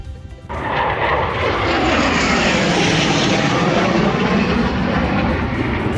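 A Eurofighter Typhoon fighter jet roars in suddenly over the Lake District and sustains a broad, thundering rush as it passes low overhead, drowning out everything else.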